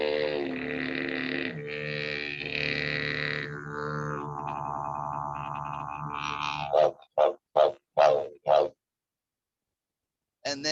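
Didgeridoo drone with the player's voice adding complementary sung notes over it, then a series of short, sharp barking bursts in quick succession before silence, close and alone.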